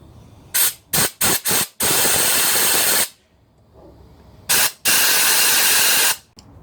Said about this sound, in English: I'm just going to blow every single hole out.